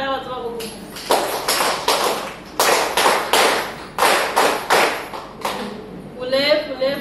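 A woman gives a cervical cancer prevention talk about screening and vaccination, and the audience answers with several bursts of loud, rhythmic clapping. Brief speech is heard between the bursts.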